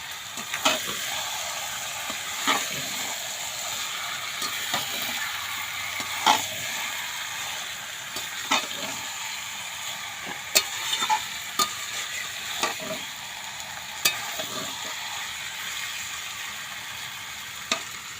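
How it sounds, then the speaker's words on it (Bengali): Chicken pieces being slowly stir-fried for kosha in a pan, a continuous sizzle broken by repeated sharp scrapes and clacks of a spatula against the metal at irregular intervals, close and with no talking. "এবারে মাংসটাকে কাঠের জালে আস্তে আস্তে যত ভালো করে কষবো"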